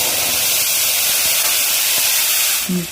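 A loud, steady sizzle of ground spice paste frying in hot oil after cumin seeds, hissing without pause for a few seconds before a brief clank near the end.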